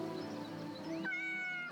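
Cat meowing in the video game Yes, Your Grace, a single drawn-out rising meow heard close and clear over soft game background music.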